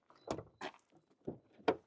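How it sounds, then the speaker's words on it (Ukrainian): Car boot shut and door opened on a 2017 Skoda Kodiaq 2.0 TDI 4x4 seven-seater: a few sharp separate thuds and latch clicks, fairly quiet, with brief pauses between, no talk. "Зачиняю багажник, відкриваю наші вже праві двері."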